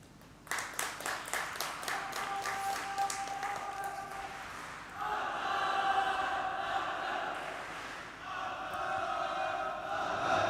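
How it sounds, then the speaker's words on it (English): An audience at an inter-school debate meet claps for the speakers. Sharp rhythmic claps give way to a broad wash of applause from the crowd, with some voices mixed in. "Thank you for the applause, boys."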